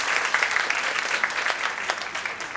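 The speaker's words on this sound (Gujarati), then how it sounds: "જોરદાર તાળી પાડીને એનું સ્વાગત કરશે" An audience at a community gathering claps to welcome a guest speaker, a dense, steady round of applause from many hands, close and lively throughout.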